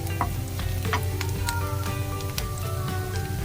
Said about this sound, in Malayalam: തേങ്ങാക്കൊത്ത് ഇഷ്ടമുള്ളവരാണെങ്കിൽ നമുക്ക് ഈ സമയത്തേക്ക് തേങ്ങാക്കൊത്ത് ഇട്ട് കൊടുക്കാം